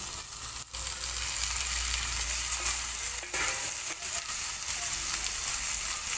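Chopped tomatoes hit a hot frying pan for masala Maggi, giving a loud continuous sizzle with stirring scrapes and a few short knocks throughout, no voices.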